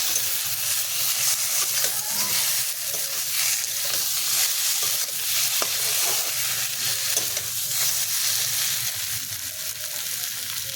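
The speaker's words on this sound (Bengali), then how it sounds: "নাড়াচাড়া করে ভালো করে ভেজে নেব আমি।" Vegetables stirred and fried in a pan for a kochu mukhi and vetki fish dish, a steady close sizzle with faint scraping of the spoon throughout, no voices.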